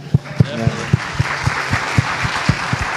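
A symposium audience applauds at a memorial lecture, the clapping carried by a steady, evenly spaced thumping beat that rises out of broadband crowd noise for about three seconds.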